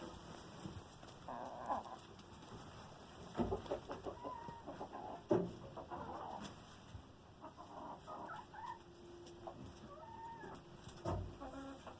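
Chickens cluck softly and intermittently in the background over a faint steady hum, with occasional bumps and rustles nearby.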